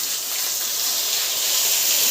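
Masala paste with onion and tomato sautéing in hot oil, giving a steady loud sizzling hiss that holds evenly without pause and has no talk over it.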